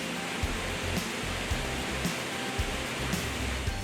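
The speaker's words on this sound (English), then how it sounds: "you can sit and revel in nature while listening to the roar of the falls" Steady rushing roar of Noccalula Falls waterfall, a dense continuous wash of water noise with faint regular low thumps, heard alone without voices.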